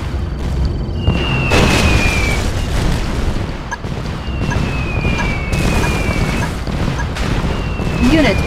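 Kirov airship bombs exploding in Red Alert 2, a dense barrage of heavy booms and crashes rolling on continuously, with falling whistle tones and short game voice announcements over the blasts.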